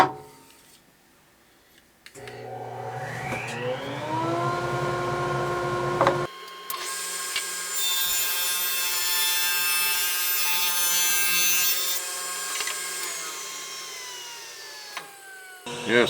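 A Ridgid R4512 table saw spins up and rips a slim trim strip off a wooden board, a steady loud whining drone that rises as the blade gets up to speed, then holds through the cut before winding down.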